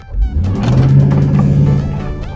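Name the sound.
car exhaust rattling while driving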